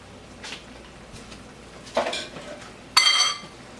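Hamburger steaks being returned to a pan of sauce for Steak Diane, with a few separate metallic clanks and scrapes of pan and utensil, the last a sharp ringing clatter like a lid going on, over a faint background sizzle.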